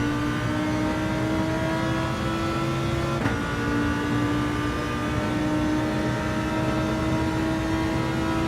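Race car engine in Gran Turismo 7, played in VR during a daily race, drones steadily at high revs with a brief gear-change blip partway through, loud and continuous with no talk.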